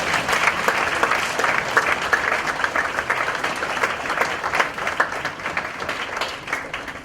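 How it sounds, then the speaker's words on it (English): A crowd claps warmly for poet Luis Rodriguez at a poetry reading, a dense, lively round of applause holding steady for several seconds with no talk over it. "Please give a warm applause to Luis Rodriguez"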